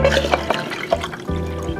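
Apple cider poured at a table, a brief gurgling, splashing stream of liquid with a few sharp clinks and a short pause before the pour resumes, close and fairly clear.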